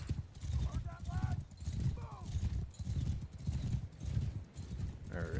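Horses in the Mount & Blade Bannerlord game thud along in rhythmic hoofbeats under a loud voice giving orders, with faint battle noise in the mix.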